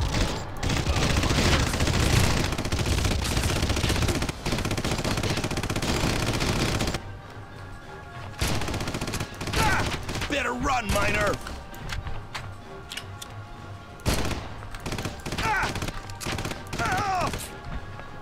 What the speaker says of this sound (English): This gun, alternate fire perhaps?